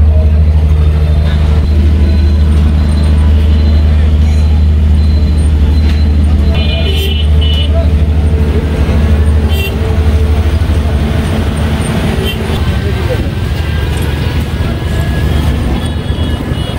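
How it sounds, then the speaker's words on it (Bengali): Loud, constant road traffic at a four-way intersection in Gobindaganj, with a heavy engine drone, passing vehicles and a faint horn, while someone talks throughout. "রাস্তার মধ্যে এটা হচ্ছে 4 রাস্তার মোড়।"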